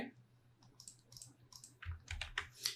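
Computer keyboard typing with scattered key clicks, a paste and an Enter press while installing Tailwind CSS via npm, close and fairly quiet over faint background hum.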